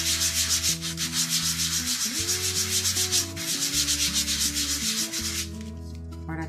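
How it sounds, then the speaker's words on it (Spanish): Steady rhythmic rubbing of sandpaper in a circular motion, close up, repeated in quick regular strokes over background music. "vamos a lijar de esta manera, siempre vamos a dejar en forma circular"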